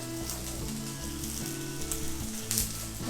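Chopped onions and green chilies sauté in a pan for a spinach curry, giving a steady, close frying sizzle with faint stirring, alone without talk.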